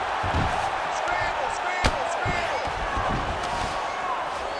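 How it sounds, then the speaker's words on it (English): Arena crowd in the UFC 5 fighting game swells into a loud, steady roar as two fighters get back to their feet after a grappling exchange, with a sharp thud cutting through midway. "big pop from the crowd as they get back to their feet"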